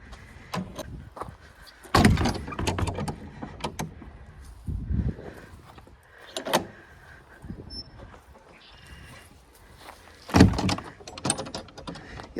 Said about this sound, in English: I'll open these doors up.